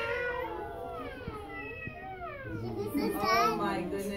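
Children's voices mimic a cat, drawn-out rising and falling meows overlapping one another in a lively, close group.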